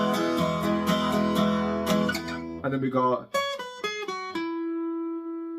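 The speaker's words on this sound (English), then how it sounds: "then there's a little simple lead guitar bit" A simple lead guitar intro riff from a song is picked as single notes. It follows a few strummed chords, ends on a ringing held note, and a brief spoken voice comes in at the start.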